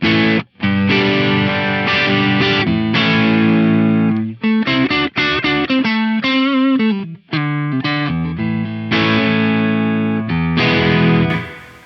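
Fender CIJ Stratocaster played through a Flamma FX-200 on a Plexi preset with EL34 tube and cab impulse response, a loud, continuous distorted guitar riff with sustained chords and quick picked runs, brief gaps between phrases, no talking.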